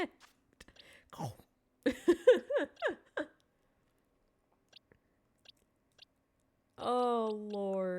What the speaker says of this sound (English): It's such a crisp crunch sound effect.